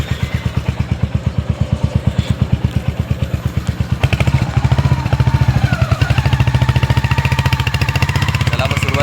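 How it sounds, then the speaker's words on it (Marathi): Motorcycle engine running steadily during a ride on a road near Badlapur, a continuous loud, even puttering throb with faint voices underneath. "त्याला आपण सुरुवात केलेली आहे आता बाईक राईड करायला."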